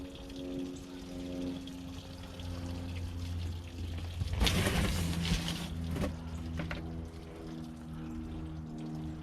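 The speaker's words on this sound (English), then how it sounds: "pour this water out and let it run under the cracks." Water poured out onto the ground outdoors, running off over cracks, a brief splashing gush of about two seconds over a steady low mechanical hum, then a few faint trickles.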